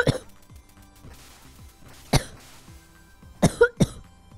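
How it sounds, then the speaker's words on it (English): Person coughing near the microphone during NES Duck Hunt play: scattered short coughs and throat-clearing bursts, with a single sharp one around the middle and a quick cluster of three near the end. "Sorry, I got a bit cough."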